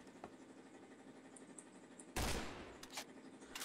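Gunfire in the Point Blank first-person shooter game, a sudden loud burst of shots that fades out, then a couple of sharper single cracks, following a quiet stretch of faint game ambience.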